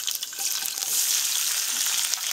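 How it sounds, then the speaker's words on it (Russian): Steady hissing sizzle of fennel frying in a hot oiled pan, a continuous crackling bed of sound close up with no voices. "Разогретая сковородка с маслом."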